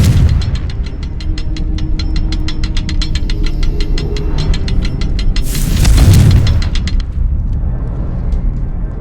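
Confringo blasting spell in Hogwarts Legacy, a deep rumbling boom erupting midway through a backdrop of rapid ratcheting, clicking mechanical ticks that run steadily before and after the blast.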